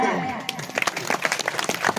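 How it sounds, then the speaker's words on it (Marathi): A devotional gathering's crowd breaks into scattered clapping that builds into uneven applause, starting just as a voice trails off at the beginning. "वाजवा मग तुम्हीच तुमच्यासाठी टाळ्या."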